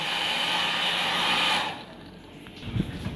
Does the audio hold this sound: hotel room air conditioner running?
yes